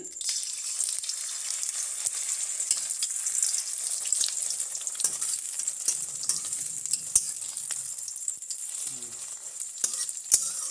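Egg curry sizzling and frying in a pan, with steady crackling hiss and occasional stirring scrapes, close and continuous with no talk.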